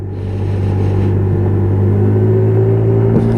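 An AJS Firefox 50cc twist-and-go moped revs steadily and pulls away, a loud, continuous engine drone with low rumble holding throughout, close to the rider.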